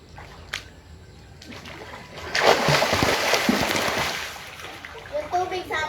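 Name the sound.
cold water splashing during a morning bath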